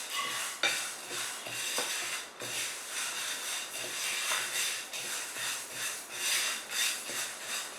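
Green gram dry roasting in a pan while being stirred, with a steady close scraping and rattling hiss that rises and falls with each stir and contains small clinks, and no voice.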